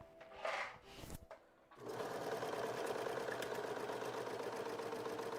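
A home sewing machine stitches a scrap of dress fabric, starting after a couple of brief handling sounds and then running as a steady, close, continuous motor whir for several seconds.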